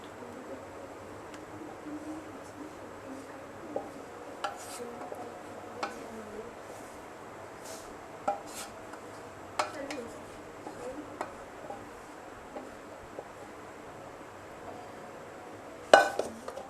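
While mango jam is transferred into a pot, utensils and pots make scattered light clinks and taps at irregular intervals, fairly close but soft, with one sharper clatter near the end.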